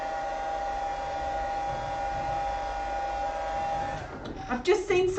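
A hair dryer blows steadily on a wet watercolour rose painting, a close, constant whirring hiss that cuts off near the end as a voice begins speaking.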